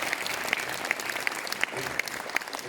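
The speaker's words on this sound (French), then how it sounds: "je voudrais quand même que vous les applaudissiez parce qu'ils sont vraiment sensationnels" Audience applause at an association presentation event, steady clapping with a few sharp, rhythmic claps standing out, moderately loud with a faint voice underneath.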